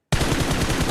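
Gunfire during a battle royale esports match in a competitive tournament, a sudden loud burst of rapid automatic shots starting abruptly and continuing densely, with no voices.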